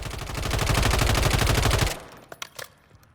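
An IWI TAR-21 rifle fires one loud, close, rapid automatic burst lasting almost two seconds in Call of Duty: Modern Warfare III, followed by a few light metallic clicks and rattles.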